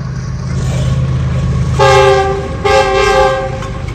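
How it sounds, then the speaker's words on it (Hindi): A train rumbles past up close, and two long horn blasts sound over the steady roar of the wheels. "रेलगाड़ी आ रही है"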